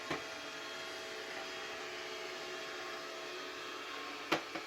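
A Mahli XL robotic vacuum cleaner runs with a steady, even whir and hiss, with a faint knock near the start and a sharper bump close to the end as it meets the wall.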